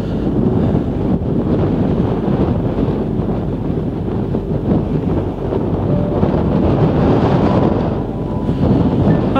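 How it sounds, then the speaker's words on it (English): Strong wind roars steadily on an exposed mountain ridge at Y Garn above Devil's Kitchen in Snowdonia, buffeting the microphone in a loud, continuous rush with no break and no voices. "And the wind."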